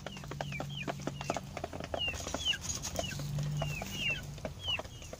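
Chickens and a rooster on a farm at sunrise, fed corn bran, cluck and call repeatedly at moderate distance, with short chirps and scattered pecking over a low steady hum.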